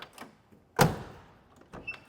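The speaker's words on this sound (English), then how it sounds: "let's check the doors and see if the hinges, latches, and everything work right" A 1969 Camaro door with a slightly worn hinge: faint latch clicks, then one sharp solid slam, followed by a small click as the door is worked again.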